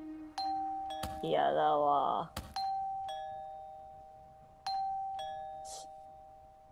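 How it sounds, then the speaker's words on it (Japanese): A doorbell chime rings repeatedly in the Wii horror game Ju-on, clear electronic ding-dong tones with long sustained ringing decays. Someone speaks briefly between the chimes. "いやなんだよな俺このピンポンの音が。"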